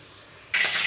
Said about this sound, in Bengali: গরম জলে পাস্তাটা ঢেলে দিচ্ছি।